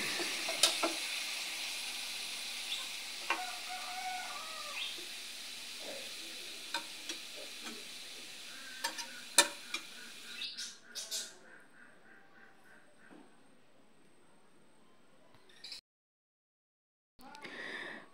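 Sweet pumpkin frying in a pan makes a close, soft sizzle with occasional sharp crackles and pops, fading quieter in the later part before briefly cutting to silence.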